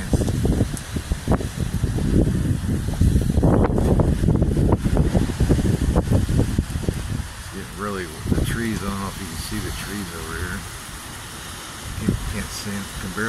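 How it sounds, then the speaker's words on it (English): Loud, blustery monsoon storm wind rushes and buffets the microphone, then eases a little as a person starts talking over it. "Barely see the trees, but it's super windy."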